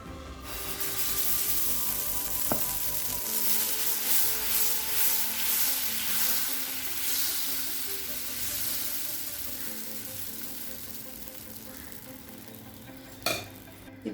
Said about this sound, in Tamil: தோசைகள் சூடாயிடுச்சு, நம்ம தோசை ஊற்றிடலாம்.